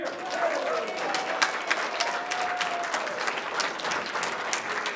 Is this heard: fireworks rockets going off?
no